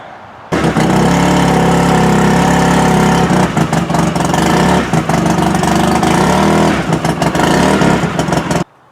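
A Polaris RZR side-by-side rolls on a dry-rotted tire over a nail. Its engine runs loud and close with a steady drone and slight revving swells throughout, with no talking.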